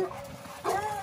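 Dogs at a home where a 2001 Club Car DS golf cart is being test-driven give a short yip and whimper at moderate distance, faint and brief.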